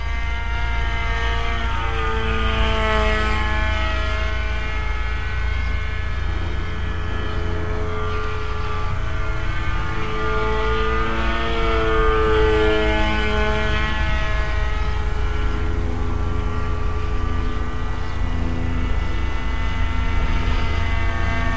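Propeller engine of a 38-inch KFm4 Superfly clone RC airplane drones steadily at about a third throttle, a continuous buzzing hum with gently wavering pitch, moderately loud and close throughout.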